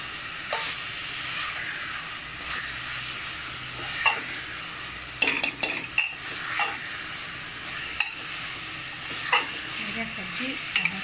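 Jackfruit and potato frying together in a pan, with a steady hissing sizzle under irregular spatula scrapes and a brief cluster of sharper clattering knocks midway, fairly quiet and close.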